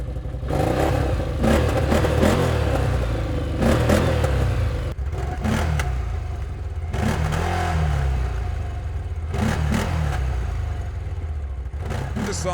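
A CF-Moto Cforce 1000 ATV with a 962 cc two-cylinder engine and standard exhaust idles loud and close, then is blipped in repeated short revs, each throttle burst rising and falling back to a rough idle.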